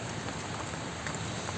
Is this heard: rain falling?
yes